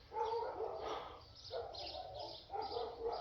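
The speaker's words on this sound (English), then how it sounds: "I'm at a customer's house and the dogs are going nuts." Dogs at a customer's house bark in repeated loud bursts, somewhat distant and echoing, roughly four rounds of barking spread evenly with no talk over them.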